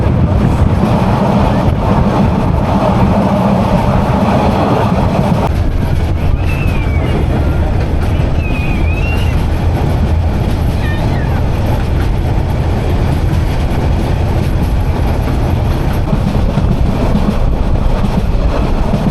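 The Saikat Express passenger train runs between Chittagong and Cox's Bazar with a loud, continuous rumble of carriage noise and wheel clatter, and a few faint higher whistling tones come through midway.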